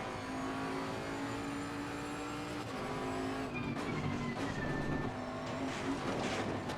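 Race car driven in Assetto Corsa Competizione, a steady loud engine drone with shifting pitch and gear changes, tyres rumbling over the track throughout.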